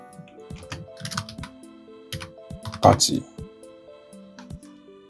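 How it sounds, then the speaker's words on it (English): Quick clusters of clicks come from typing on a computer keyboard at a desk, heard close and clear while a voice talks over them. "so next thing we'll do let's type in"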